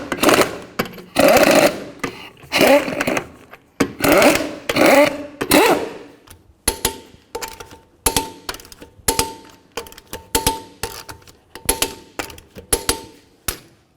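An impact wrench runs lug nuts onto the rear wheel of a Buick Enclave. It gives several long rattling bursts, followed by a quicker series of short hammering rattles, all close and loud with no talk.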